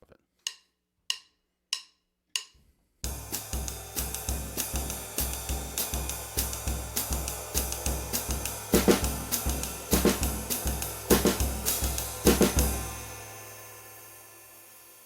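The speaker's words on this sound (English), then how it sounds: "He was demonstrating a groove from Brazil called a baio" A Brazilian baião groove played on a drum kit, opening with four spaced cross-stick clicks before a steady, syncopated pattern of kick, snare and cymbal sets in and runs for about ten seconds, then rings out into near silence.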